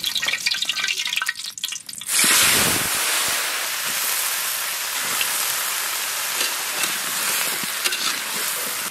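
Washed vegetables hit hot oil in a kadai with a sudden loud sizzle that settles into a steady, continuous crackling hiss lasting several seconds, with no talk over it.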